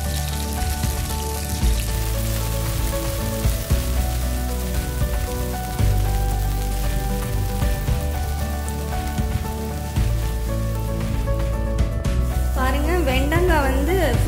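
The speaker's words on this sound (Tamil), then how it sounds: "இந்த நறுக்கி வச்ச வெண்டைக்காவை போட்டு நல்லா ஃப்ரை பண்ணி எடுத்துக்கோங்க" Chopped okra fries in hot oil in a pan, giving a steady, dense sizzle and crackle that runs throughout, with a brief voice near the end.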